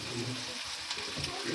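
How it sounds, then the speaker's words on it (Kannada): Oil poured into a pan of frying food sets off a soft, steady sizzle, faint and continuous, with speech in the background. "ಇವಾಗ ಇನ್ನು ಸ್ವಲ್ಪ ಎಣ್ಣೆ ಹಾಕ್ತಿದ್ದಾರೆ ನೋಡಿ."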